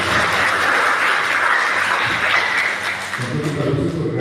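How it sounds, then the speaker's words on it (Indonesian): An audience applauds for agriculture-faculty internship participants at a university event, with steady, dense clapping filling about three seconds before it tapers off and a voice takes over. "Kita beri aplaus dulu."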